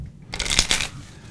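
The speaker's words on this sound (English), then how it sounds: "I'm going to shuffle the cards up." A quick riffle of playing cards being shuffled, a short crisp flutter lasting about half a second, close and fairly quiet.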